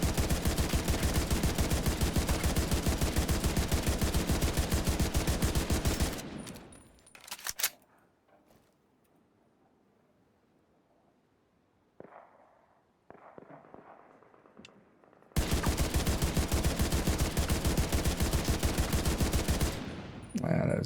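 Video game gunfire comes in long, loud, steady rapid bursts before and after a quiet stretch that holds faint scattered sounds.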